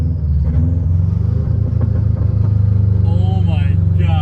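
Engine-swapped Subaru GC8 revving hard with a loud, steady low rumble throughout, a voice calling out over it near the end.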